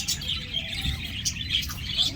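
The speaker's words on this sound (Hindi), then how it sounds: "ये तोते हैं इधर" Parrots and other birds call in a park in Rawalpindi, a busy overlapping mix of chirps, tweets and sharper squawks at moderate distance, continuous throughout with no talking.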